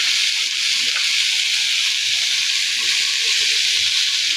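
Chili powder, cumin and coriander powder frying together in a pan, giving a loud, steady, continuous sizzle and hiss with no talking.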